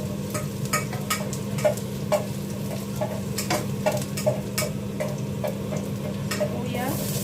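Onions frying in a pan make a steady, close sizzle, with regular clinks and scrapes of a utensil stirring them. No one speaks.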